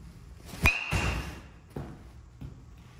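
Sharp metallic crack of a red and blue BBCOR baseball bat striking a ball, with a brief ringing ping that fades, followed by a couple of fainter thuds nearby.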